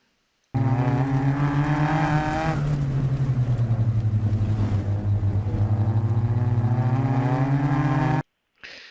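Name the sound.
car powering down straight on autocross course in rain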